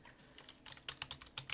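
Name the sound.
typing on a mobile phone keyboard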